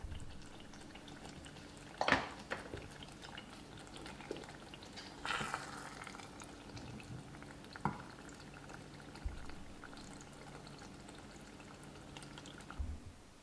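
Beef rendang simmers in a covered pot, a faint low bubbling with occasional soft pops and clicks of liquid, quiet and close, with no voices.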